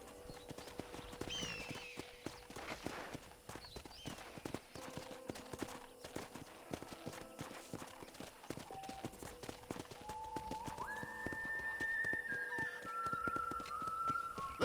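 Steady horse hoof clip-clops in the video game Red Dead Redemption plod along at a walking pace, with soft whistling tones and game-like musical notes rising near the end.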